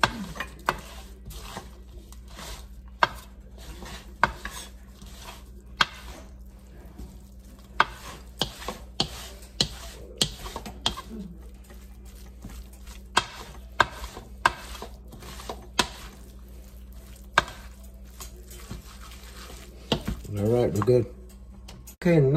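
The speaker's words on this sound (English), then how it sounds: "we'll give this a mix here and get this all incorporated" Stuffed pepper filling is mixed in a bowl, with a spoon knocking and scraping in repeated clicks and thuds over a low steady hum, growing busier near the end.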